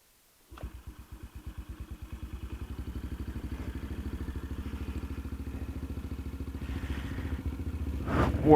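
Kayo MR125 motorcycle engine starts and warms up, settling into a steady, close, rhythmic thumping idle that slowly builds in loudness, ending with a sharp rev.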